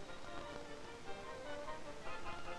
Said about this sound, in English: Beneath the trees beside the babbling brook,